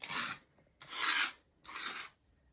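Debris being scraped off a tabletop in three distinct, evenly spaced rasping strokes, each about half a second long, close and fairly loud, with no talking.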